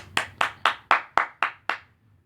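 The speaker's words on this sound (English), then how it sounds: "That deserves a round of applause." Seven sharp hand claps in a slow, even rhythm, close and clear, with nothing else around them.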